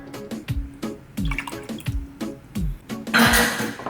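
Water being poured into a pickling mix for Tijuana-style crab tostadas, a series of short splashy pours in an even rhythm ending in a louder, hissing gush, close and with no talk.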